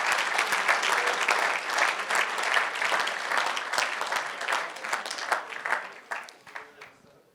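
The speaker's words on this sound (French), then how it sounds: "vous pouvez les applaudir" Audience at a student project awards ceremony applauding the winning team, a steady, moderately distant wash of clapping that continues for several seconds before fading out.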